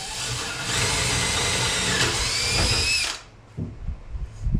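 A power drill whirs steadily and loudly for about three seconds while a dog door is installed in a window, then stops, leaving a few light knocks and handling noises.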